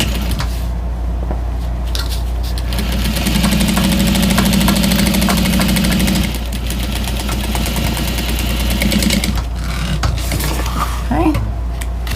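A sewing machine runs a top-to-bottom side seam on a fabric water bottle holder, giving a steady motor whir of a few seconds under constant loud background hum, with talking nearby.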